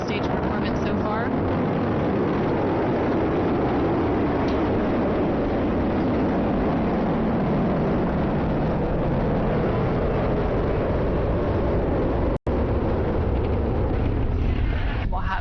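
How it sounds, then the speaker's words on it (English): Crew-10 Falcon 9 rocket liftoff: a loud, continuous broadband roar of the first-stage engines fills the whole span, steady and rumbling with one brief dropout near the end. "And liftoff of Crew-10 now soaring"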